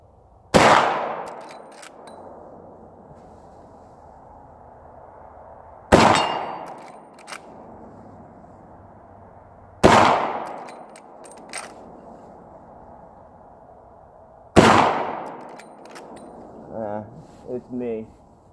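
Marlin rifle fired with 43-grain loads: four sharp, loud gunshots spaced a few seconds apart, each with a decaying echo, followed by faint metallic action clicks near the end.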